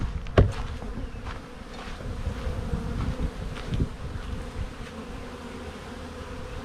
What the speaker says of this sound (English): So there's a lot of bees here